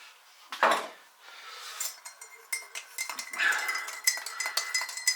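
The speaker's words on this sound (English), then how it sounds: "you've got to stir it anti-clockwise" A spoon clinks against a cup while stirring turmeric tea, a quick run of light metallic taps and scrapes, close and fairly quiet, with no talking.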